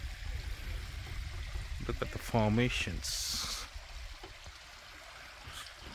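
Hot spring water runs down the rock terraces of Mammoth Hot Springs in Yellowstone, a steady gentle trickle and flow heard beneath a man's nearby speech.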